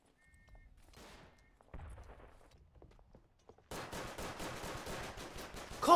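Madsen machine gun in the Verdun first-world-war shooter firing a rapid, dense burst that breaks in suddenly and loudly after quieter scattered distant shots and faint rumbles.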